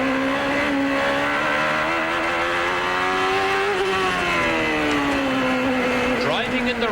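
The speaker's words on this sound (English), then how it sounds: "Just listen to how easy Mansell treats this car." Nigel Mansell's CART race car driving in the rain at Portland in 1993, heard as a loud, close, continuous engine whine whose pitch climbs and dips smoothly as the throttle is eased on and off.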